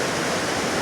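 Waterfall cascading over a rock formation by a cliff, a loud, dense, continuous rushing roar with no breaks and no voices.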